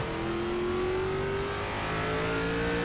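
Race car engine in iRacing, a steady sustained drone with gradually rising pitch as the throttle opens, continuous and fairly loud with no pauses or talk.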